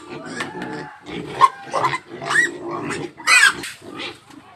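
Pigs in a backyard pen grunt and squeal in short, repeated bursts close by at feeding time, with a few higher squeals mixed in and a voice speaking among them.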